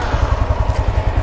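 A Yamaha FZ5 motorcycle engine, version 3.0, runs close by with a rapid, even thumping pulse and a rough mechanical clatter, steady and loud with no voices.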